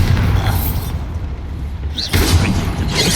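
A Bombarda spell detonating in Hogwarts Legacy, two heavy booming blasts with a lull between, loud and near, layered with game combat noise.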